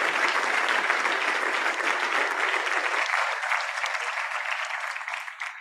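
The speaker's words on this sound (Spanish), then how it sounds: "Les pido un aplauso para nuestro panel de cierre." Sustained audience applause at a sports-and-development conference closing the final panel, a dense even wash of many hands clapping that fills the hall and then thins slightly toward the end.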